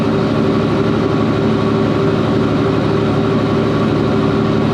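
A truck engine with dual 5-inch straight pipes and 6-inch tips idles in a deep, steady rumble, loud and close, unbroken for the whole stretch with no talk over it.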